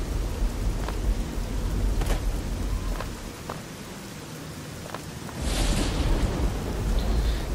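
Steady rain hisses throughout with a few faint low rumbles of thunder, swelling louder in the last couple of seconds, in the video game Fallout 3.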